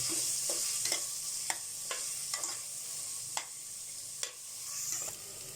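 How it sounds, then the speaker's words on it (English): Green chilies sautéing in a pan with ginger and garlic, a constant bright sizzle broken by a series of spatula scrapes and taps at irregular intervals. "I am putting little green chili because I want it slightly spicy. Saute about 1 minute."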